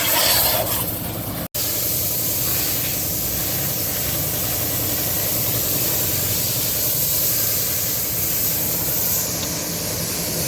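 A pressure washer sprays water steadily onto a wrapped Honda CB150F motorcycle, a continuous loud hissing rush with a brief cut near the start, close by and without talk.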